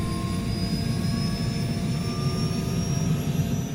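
Constant droning turbine aircraft engine hum from a flight simulator game, Black Square Turbine Bonanza, with a thin high whine riding on top, steady and unbroken throughout.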